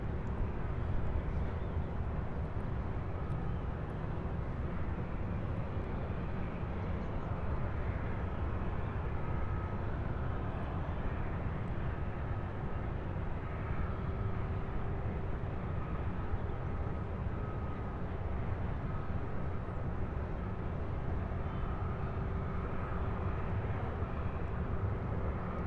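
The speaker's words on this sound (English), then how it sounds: "And that one, of course, landing right here on 35 left in front of us." Airliner landing on runway 35 Left at Louisville International Airport, a steady broad engine roar holding loud and continuous throughout with a faint tonal hum, no voices.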